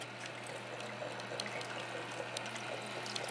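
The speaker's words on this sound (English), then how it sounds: "And it comes out with this nice waterfall spout." Water from a reef aquarium's filtration pours steadily out of a waterfall-style spout, a continuous close splashing trickle with a low pump hum beneath and no voices.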